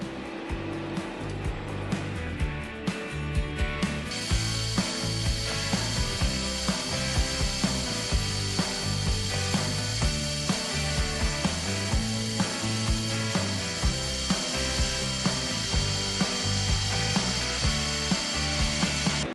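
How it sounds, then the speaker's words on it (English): Metal machining of the working surface of a cylinder head vacuum test device clamped in jaws: a steady mechanical whir with regular ticking clicks, close and continuous, growing brighter after a few seconds. "Now I'm going to try machining the working surface."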